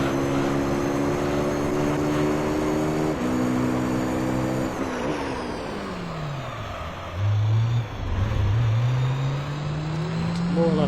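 Race car engine in Gran Turismo 3 (PAL), a Professional Dream Car race: steady loud engine drone shifting up through gears, pitch dropping at each change then climbing again, with faint talk over it.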